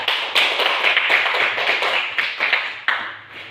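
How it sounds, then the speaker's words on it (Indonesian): An audience in a school class claps together, a dense, lively burst of hand claps with short rhythmic pulses that carries on throughout and stays close and fairly loud. "Kita berikan tepuk tangan."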